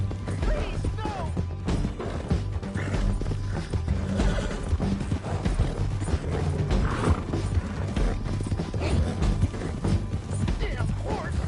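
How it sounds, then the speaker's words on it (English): Horse hooves clip-clop in a video game amid clattering mechanisms and a whinny, with shouted voices and other game sounds layered over a steady, busy background. "Damn horse!"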